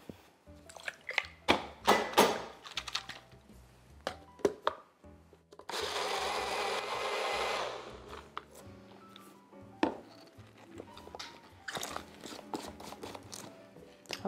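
A blender whirs steadily for a few seconds, blending an oil-free vegan cheese sauce until creamy, between clinks and clatter of kitchen utensils and containers at close range.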